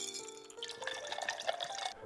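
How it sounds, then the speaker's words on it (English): Ice water pours into a pitcher while lemonade is being made, a continuous splashing, trickling fill with glassy clinks of ice, fairly close and steady for about two seconds before stopping. "Then we're going to fill the pitcher with some ice water."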